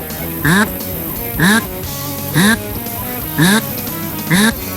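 A duck call blown in five evenly spaced hoots, each a short rising honk, loud and close over steady background noise.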